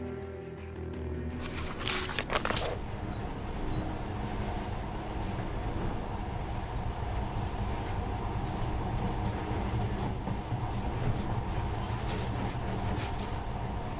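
A monorail in Metro Last Light Redux rumbles steadily along the track as a low continuous mechanical drone, fairly loud and even, after a brief burst of other sound at the start.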